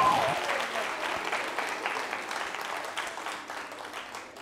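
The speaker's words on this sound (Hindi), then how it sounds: "जोरदार तालियां बजाइए।" Audience applause at a college anniversary quiz show in Jaipur, a steady, dense clapping from a large crowd that holds for several seconds before thinning slightly at the end.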